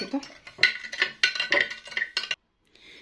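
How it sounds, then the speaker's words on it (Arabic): A spoon stirs sugar into water in a pot at close range, scraping and clinking in quick strokes, then stops abruptly and is followed by a short faint hiss. "وهقلب السكر ده لحد ما اتاكد ان هو خلاص داب معايا"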